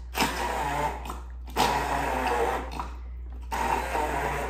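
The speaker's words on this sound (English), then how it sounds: "I'm just gonna press it down and let the blender do the work." Three bursts of a whirring immersion blender churning thick basil pesto, each running about a second with short pauses between, loud and close.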